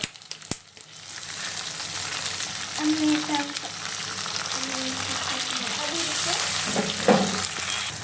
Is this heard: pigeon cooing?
no